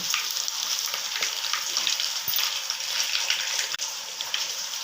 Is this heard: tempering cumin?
yes